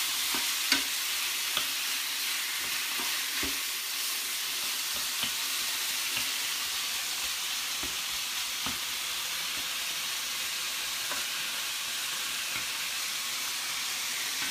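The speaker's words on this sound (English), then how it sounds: "Now it's in the pan cooking slowly." Marinated pork cooks slowly in a pan, giving a soft, steady sizzle and hiss with occasional faint clicks of a utensil, fairly quiet and with no talking.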